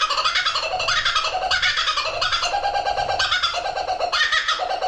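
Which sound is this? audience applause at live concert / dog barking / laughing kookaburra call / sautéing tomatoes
laughing kookaburra call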